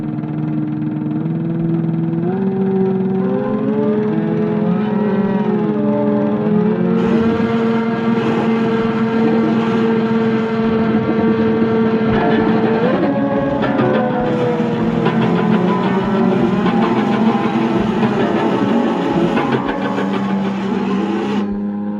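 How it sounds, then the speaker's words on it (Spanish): A car engine roars and climbs in pitch as it speeds up, used within an Italian Futurist noise music piece; rising, sweeping tones hold steady and loud throughout, layered with dense buzzing texture. "podemos escuchar el rugido del motor de un auto que va aumentando su velocidad"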